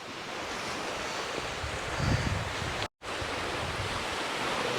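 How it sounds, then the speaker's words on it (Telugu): Ocean waves at Gokarna beach, a steady broad wash of surf with wind buffeting the microphone, a brief swell near the middle and a short dropout, no talk. "కొంచెం బీచ్ దగ్గరికి అయితే వచ్చాము."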